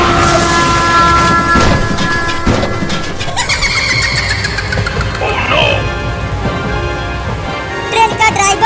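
A train running on rails, a loud steady rumble with squealing metal tones and clattering that fills the whole clip without a break.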